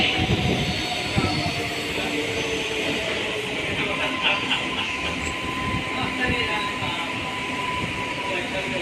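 A train pulls out of Lakdi-ka-pul station in Hyderabad heading toward Nampally, a steady rumbling of wheels and carriages heard from on board, continuous and fairly loud with faint squeals and clatter, a voice speaking over it.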